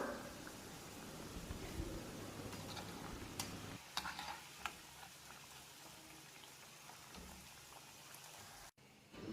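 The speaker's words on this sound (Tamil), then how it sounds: "உருளைக்கிழங்கு இந்த மாதிரி பொரிஞ்சு வந்தாக்கல இதை எடுத்து வச்சிடலாம்" Potato pieces deep-frying in oil give a continuous bubbling sizzle, busier at first, then settling into a softer crackle with a few sharp clinks.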